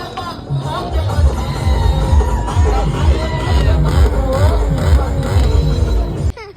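A large, dense crowd gathered in Sangola for a political rally with the Chief Minister, a continuous roar of overlapping voices, shouts and cheering, loud and close throughout.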